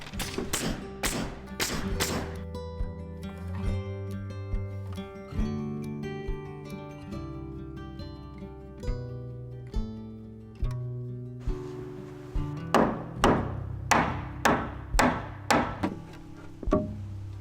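Hammer blows drive nails into wooden wall studs during house framing, in irregular bursts of sharp thuds and taps, with a quick rapid run at the start and another near the end, all close and loud.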